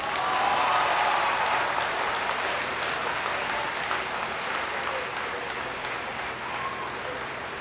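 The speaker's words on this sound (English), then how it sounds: "I would like you to clap for yourself." Graduates at a college graduation ceremony applaud themselves, a dense, sustained wash of clapping from a large crowd that stays steady and loud throughout before easing slightly toward the end.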